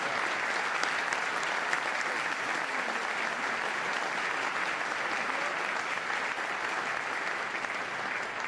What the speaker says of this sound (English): Please give our distinguished guests a round of applause